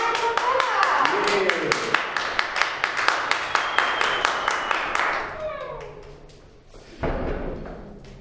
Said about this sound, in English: A big round of applause, please, for My Propeller!